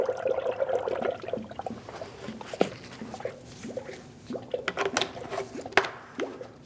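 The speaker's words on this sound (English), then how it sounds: "We're going to fill our reservoir." Coolant pouring through a funnel into the coolant reservoir of a 2016-2025 Chevrolet Malibu 1.5L, giving soft, irregular gurgles, plops and trickles close by, with no talking.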